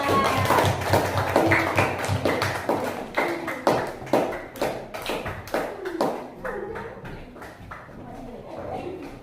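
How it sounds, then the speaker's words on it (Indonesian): Students in a classroom clap for a group, a burst of close, uneven hand claps fading to scattered taps, with some voices mixed in. "Tepuk tangan dulu untuk kelompok 3."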